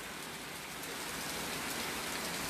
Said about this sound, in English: It's finally raining, ladies and gentlemen.